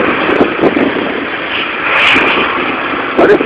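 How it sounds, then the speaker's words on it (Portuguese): Busy city street on Corredor Pedro Bueno with a bus and fast-moving cars, a steady moderate traffic rumble with brief passing swells, no talking. "Busão, carros frenéticos."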